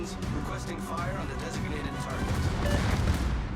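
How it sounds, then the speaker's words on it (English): Rapid, overlapping booms from a Karl XIV Johan tier 9 battleship's secondary guns firing in World of Warships, dense and continuous, growing louder toward the end while someone talks over the barrage. "Secondaries, look at them go."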